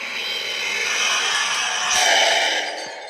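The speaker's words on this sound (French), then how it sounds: "Il va y avoir un monstre qui va arriver." A monster rushes in during a tense moment in the Roblox horror game Doors, a broad loud roaring, hissing rumble that swells toward the middle and fades slightly, with no voices over it.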